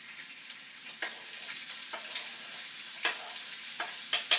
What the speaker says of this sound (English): Our sausages are just about done browning